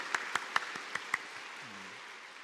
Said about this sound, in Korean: 박수로 함께 인사드리도록 하겠습니다